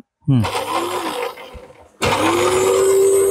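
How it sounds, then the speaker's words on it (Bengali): A food processor with salad maker attachment starts up, its motor whining and rising in pitch, stops briefly, then runs steadily again while shredding carrots, loud and close. "আমরা এখন একটু সালাদ মেকারের কাজটা দেখাবো।"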